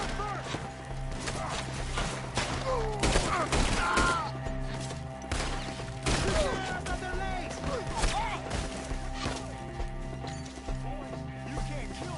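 Gunfire crackles in Red Dead Redemption 2 during an ambush: repeated sharp shots in irregular bursts mixed with horse sounds and shouting voices, fairly busy and close.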